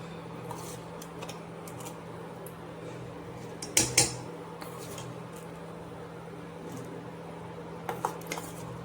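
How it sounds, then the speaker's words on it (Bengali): Rice is tipped into melted jaggery and ghee in a cooking pot for payesh, mostly a soft low hum with a few brief metallic clinks and clatters of the utensil against the pot. "এবার এই চালগুলো এখানে গুড়ের মধ্যে দিয়ে দেবো।"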